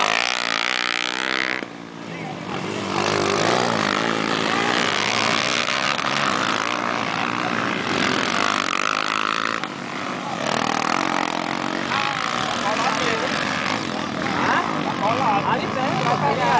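Motocross motorcycle engine at a dirt track in Riacho de Santana, revving loudly and continuously with a buzzing, sputtering roar, close by, while voices talk over it.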